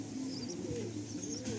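A Madrasi pigeon coos softly and close, a short low murmuring call over a steady background hum.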